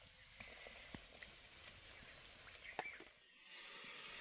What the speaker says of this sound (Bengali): একে তেলের মধ্যে ভেজে নেব